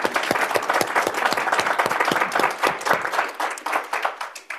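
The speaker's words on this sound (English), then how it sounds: "please a round of applause for our excellent panelists" An audience at a panel discussion on the digital future of Canadian transportation applauds the panelists; crisp individual claps stand out within a lively, sustained round that thins toward the end.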